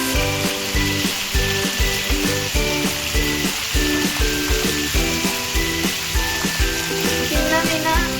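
Chicken frying in a pan hisses steadily at close range, with regular stirring and a rhythmic beat of music underneath.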